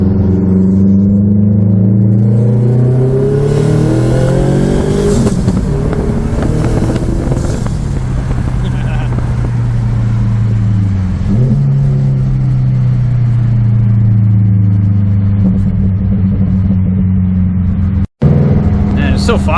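A 2022-or-newer Subaru WRX fitted with a JDMuscle unequal-length header, driving on a road, gives a continuous loud engine drone with rising and falling revs and a few gear-change dips throughout.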